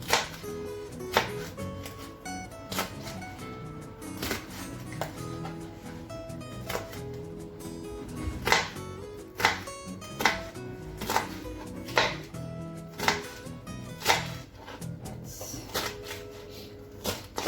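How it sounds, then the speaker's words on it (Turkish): Peppers being chopped on a cutting board in a home kitchen, a series of distinct knife knocks at an irregular then fairly steady pace, over quiet background hum and faint clinks. "Biberlerimi doğruyorum."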